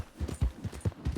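Hooves of a Shire horse clip-clop at a walk in the video game Red Dead RP, a steady, fairly soft series of thudding beats with no voices.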